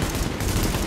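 An enemy light machine gun fires in The Division, a short, loud, rapid burst of close shots packed tightly together.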